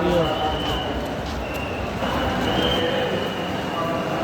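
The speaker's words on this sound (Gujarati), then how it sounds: "પ્રયાગરાજ જક્ષનું રેલવે સ્ટેશન જો" A train rumbles steadily through the crowded Prayagraj Junction railway station during the Maha Kumbh, with a faint high wheel squeal and a crowd murmuring in the background.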